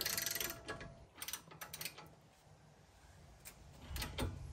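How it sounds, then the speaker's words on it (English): Ratchet wrench tightening the sway bar end link on a VW Taos SE 4Motion, with several quick bursts of clicking separated by pauses, close and fairly quiet in a workshop. "Here I'm just tightening the sway bar end link back to 18 mil."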